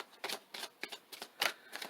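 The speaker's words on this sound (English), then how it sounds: "It's very hard to shuffle in this way." A deck of tarot cards being shuffled by hand, about seven quick separate riffling bursts with short pauses between them, soft and close, with no talking.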